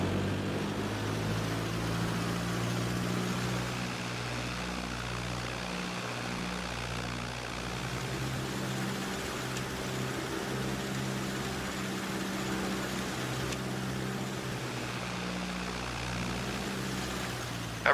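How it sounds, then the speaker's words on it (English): A Cessna 172 engine runs up to 1800 RPM in the A2A flight simulator, a steady, droning propeller hum that holds an even level throughout. "We'll run it up to 1800 RPM and check both magnetos."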